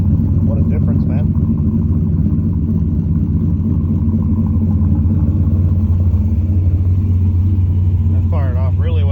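Cammed turbo LS engine idling steadily near 1,000 RPM after a cold start at a few degrees Celsius, a loud, close, lumpy rumble throughout, with someone speaking briefly over it.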